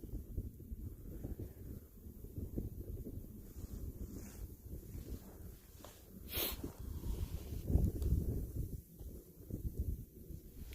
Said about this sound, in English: Can you guys hear that wind at all?